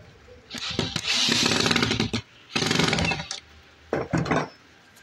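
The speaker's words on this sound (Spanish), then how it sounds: "Primero hay que hacer unas perforaciones a la madera para no reventar la madera." A power drill bores holes into a wooden bed crossbar in three loud, close bursts of whining and grinding, the first two long and the last short, with quiet gaps between.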